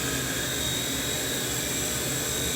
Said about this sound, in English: It's a great helicopter. You can fly it indoors.